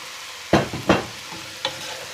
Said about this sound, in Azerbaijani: Və sonra qarışdırırıq.